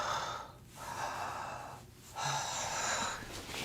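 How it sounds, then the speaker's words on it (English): Deep belly breathing, with slow audible inhales and exhales separated by two short pauses, close and airy, no talking. "you just take a few deep belly breaths"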